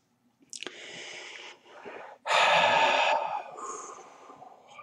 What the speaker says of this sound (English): as the Looney Lyran takes another breath